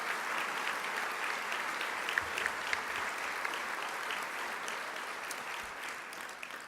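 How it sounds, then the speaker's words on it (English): A large audience claps steadily and evenly at a 75th anniversary celebration for a San Antonio energy utility, filling the room with sustained applause. "give a rousing round of applause to all the people that are standing"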